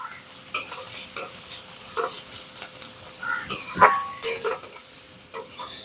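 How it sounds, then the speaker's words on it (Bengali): Finely chopped onions fry in a pan with a low steady sizzle, punctuated by repeated sharp scraping strokes of a spatula stirring them, busier toward the end. "পেঁয়াজটাকে একদম ছোট ছোট করে কুচি করতে হবে এবারে ভালো করে ভেজে নেবো"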